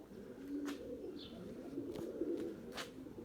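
Pigeons coo softly in low, faint calls, with a few short chirps and a quiet background hum.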